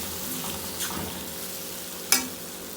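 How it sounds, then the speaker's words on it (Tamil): Instant mango pickle sizzles softly in a hot pan as a spoon stirs it, with a few light scrapes and one sharp clink against the pan, quiet and close. "இப்போ ஒரு நிமிஷம் நீங்கள் இந்த மாதிரி கிளறி விட்டால் போதும்."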